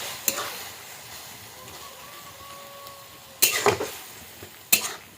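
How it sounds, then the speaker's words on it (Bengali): Mustard paste being added and stirred into greens cooking for a Bengali pui shak raita, with a faint steady sizzle and two sharp clinks of a utensil against the pot near the end. "এবার একটু সর্ষে বাটা দিয়ে দেবো তবেই তো রায়তা হবে সর্ষে বাটাটা দিয়ে দিলাম"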